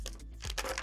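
A plastic packet of spare mouse switches crinkles in short bursts, close and crisp, with brief pauses between rustles and no talking.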